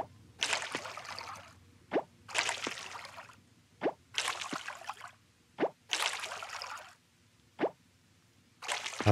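Watering crops with a watering can in the farming game Coral Island: five short splashy pours, each a burst of spattering water followed by a small plop, spaced about two seconds apart, close and clear with no talking.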